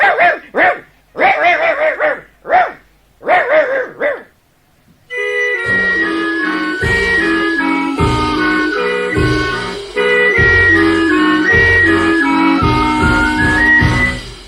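A dog in a children's fairy tale barks in a quick series of sharp, loud bursts at close range. Music then starts and continues to the end.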